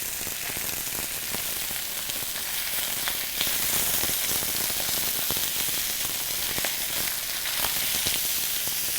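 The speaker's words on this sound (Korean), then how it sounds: "삼겹살에 기름이 나오고 노릇노릇해질 때까지 삼겹살을 볶도록 하겠습니다" Steady, dense sizzling of pork belly frying in a hot pan, with crackling pops scattered throughout and no voices.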